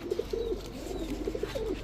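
A pair of old-breed Pakistani giribaz pigeons coo nearby in soft, repeated throaty bursts, several short rolling notes spaced across two seconds, steady and unaccompanied by talk.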